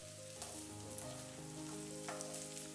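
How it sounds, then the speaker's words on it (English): Tofu sticks coated in cornstarch, salt and panko breadcrumbs fry in a non-stick skillet over medium to medium-high heat, a steady close sizzle with faint crackles and no voices. "Allow the tofu to cook in a non-stick skillet over medium to medium high."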